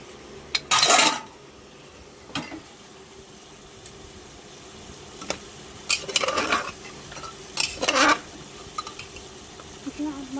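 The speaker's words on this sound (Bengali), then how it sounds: "এবার আমি প্রেসার কুকারের ঢাকনাটা খুলে নিচ্ছি।" A pressure cooker lid is handled and opened while cooking goat meat with potatoes, giving a few separate metallic clanks and scrapes against quiet kitchen background, with no clear talking.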